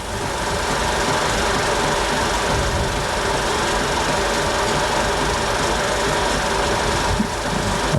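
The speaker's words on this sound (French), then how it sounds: "Et revoilà la Honda des vainqueurs sur l'anneau et sur la ligne d'arrivée." A Honda racing motorcycle at the 1969 Bol d'Or endurance race, its engine a continuous dense roar that holds steady and loud across the whole stretch, with no voices.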